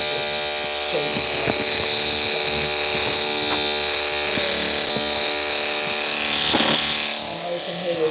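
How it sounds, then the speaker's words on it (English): Electric hair clippers shaving a man's head, a loud steady close buzz with a strong whining tone running throughout, with faint talk in the background. "I know you can hear those clippers loud and clear."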